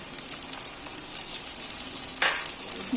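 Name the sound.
chopped tomato frying and being stirred in a pan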